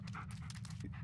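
A dog pants in the Blair Witch video game, close and steady, quick rhythmic breaths repeating through the short moment without pause, over a low background hum.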